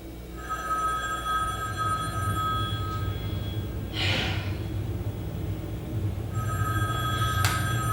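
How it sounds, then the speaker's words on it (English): A telephone rings with bright, repeated electronic bell tones in two bursts, at the start and again near the end, over a steady low background hum, with a brief breathy noise in between and no talking. "My phone rings."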